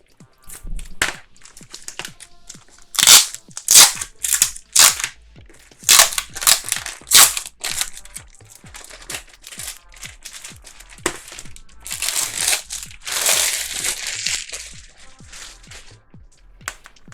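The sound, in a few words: tearing open thin clear plastic packaging of a cutting mat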